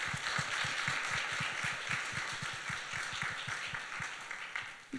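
Audience applause welcoming a panelist at a talk on stress, a steady wash of many hands clapping, moderately loud and sustained throughout without voices.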